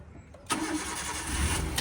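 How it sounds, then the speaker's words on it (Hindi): A car engine cranks briefly and catches, settling into a steady idle, close and fairly loud inside the car, with no speech over it. "हाँ, अब इंजन स्टार्ट करिए।"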